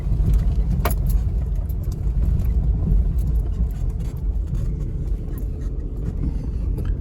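A Jeep XJ crawling down a steep hill in low range, a steady low engine rumble close by with faint rattles and a sharp clank near the start, no talk.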